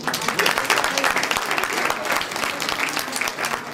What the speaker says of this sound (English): please give a warm round of applause to Mr. Neil Cavallaro.